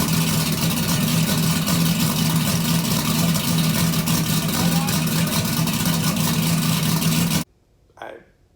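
A car engine with a failing fuel injector idles loudly up close with a slightly uneven, stumbling misfire rhythm, then cuts off abruptly, followed by a brief faint sound.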